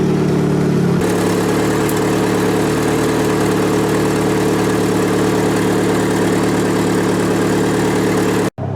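A turbocharged Honda Integra engine idles steadily after a motor swap, a loud continuous mid-low drone with a slight shift in tone early on, cut off abruptly near the end.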